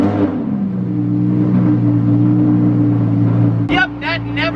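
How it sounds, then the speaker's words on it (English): A Lamborghini engine fires up from cold after sitting unused, holding a loud, steady, rumbling idle close by before cutting into three quick, sharp revs. "Cold start."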